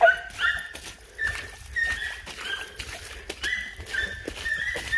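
Hunting dog pups, a male and a female among them, bay while chasing a deer track through woods near a small ravine: repeated high, yelping bays from several dogs overlapping at moderate distance, with no talking.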